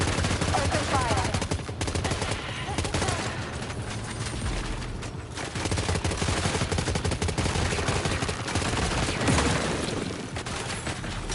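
Dense, continuous gunfire from the Death Stranding 2 video game, loud and close, with rapid overlapping shots and bursts sustained throughout without a break.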